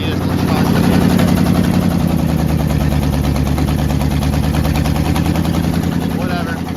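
The engine of a 1966 Kaiser Jeep Gladiator idles high with a loud, steady, throbbing drone recorded up close, unbroken throughout.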